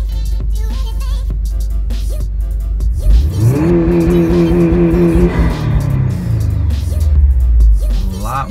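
A 2017 Subaru WRX STI on launch control set at 5,000 RPM, its engine idling low, then revving up and holding a loud, steady buzzing note before dropping back down, close and alone.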